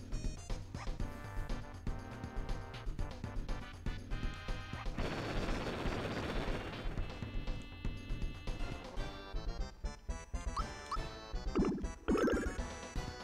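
Geno Flash cannon attack from the video game Super Mario RPG, a burst of game sound effects with a bright flash and heavy blast layered over music, rising in the middle and punctuated by sharp hits.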